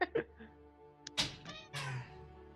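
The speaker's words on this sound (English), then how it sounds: "now I hear the cat. Cat decided to come in here." A cat meows a few times indoors, short cries standing out over an ongoing background hum, with people nearby pausing a tabletop game session.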